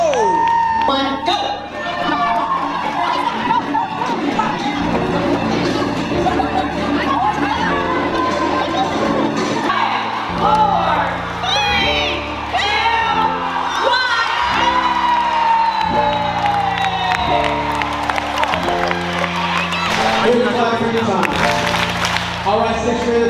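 A crowd of sixth graders cheers, whoops and claps loudly over pounding music at a school event, with shouts rising throughout.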